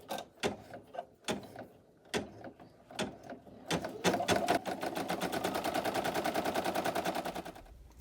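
A single-needle embroidery machine runs a tack-down stitch on an appliqué patch: a few separate mechanical clacks at first, then a fast, steady, close rattling stitch rhythm for several seconds before it halts.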